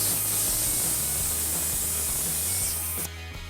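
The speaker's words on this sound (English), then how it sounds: "So we're gonna intentionally deflate the tire." Air hisses steadily and loudly from a car tire being deliberately deflated, a close continuous spray-like rush that drops sharply in level near the end.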